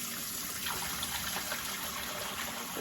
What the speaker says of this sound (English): I'm just gonna fill up the sink with some really hot water